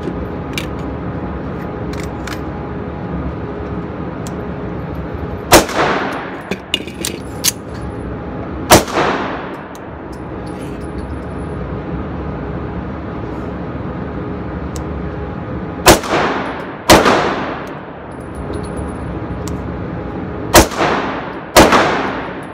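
A Taurus PT1911 pistol fired during a torture test, with six or seven sharp, loud gunshots spaced irregularly over steady outdoor background noise, each crack trailing off in a brief echo.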